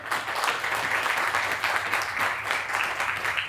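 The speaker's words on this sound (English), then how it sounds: "That deserves a huge round of applause" Steady applause from a crowd, dense and even, holding at a moderate level for the whole stretch.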